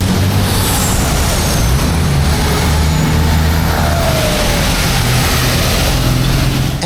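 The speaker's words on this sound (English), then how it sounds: "Now for comparison, this is what traffic sounds like in Thailand." Loud street traffic in Thailand: a dense, continuous rumble of engines and tyres, with low motor drone and revving vehicles passing close and no break in the noise.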